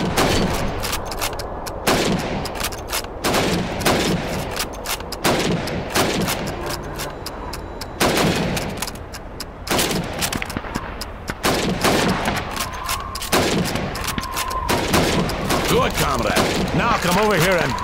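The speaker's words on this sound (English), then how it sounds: "You have 15 seconds to shoot the helmets." Rapid rifle gunfire from a Call of Duty 2 Red Army training range, shots cracking in quick repeated bursts as helmet targets are hit, with in-game voices talking between shots over a steady background din.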